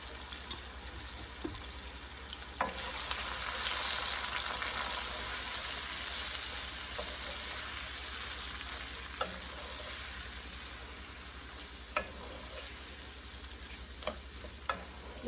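Bitter gourd (karela) fries in a pan with a low, steady sizzle and occasional sharp clicks of a spatula against the pan, plus a faint continuous hum underneath; no one speaks.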